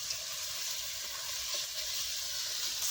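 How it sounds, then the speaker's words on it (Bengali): Onion paste and spices frying in oil in a pan for a tilapia curry, a steady close sizzle with a bright hiss that runs unbroken and fairly loud, with no talking. "আর পেঁয়াজ বাটা মশলাগুলোকে ভেজে নিতে হবে"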